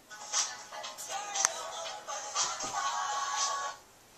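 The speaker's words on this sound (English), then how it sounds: "Sorry, my phone is ringing." A mobile phone ringtone repeats in a rising, bright electronic pattern at moderate volume for about four seconds, then stops abruptly.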